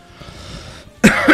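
A single loud, rough cough bursts out after a quiet stretch of soft background noise, followed by a second cough close on its heels, both near and clear.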